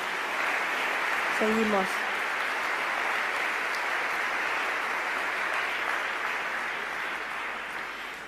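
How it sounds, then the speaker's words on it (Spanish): A church congregation claps loudly and steadily through the whole stretch, dense and sustained, with a brief spoken word rising above the clapping near the start. "Dale un fuerte aplauso al Señor."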